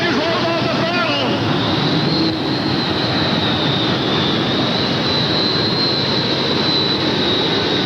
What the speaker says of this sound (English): No other tractor sounds quite like it